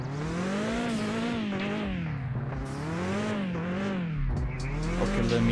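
Car drifting in the Mon Bazou driving game: a steady engine drone rises and falls in pitch with tire squeal, loud and continuous throughout.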